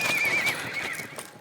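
Horses at a roping competition let out a loud, close whinny with a shrill rising and falling pitch, set against hoofbeats and the busy noise of an arena.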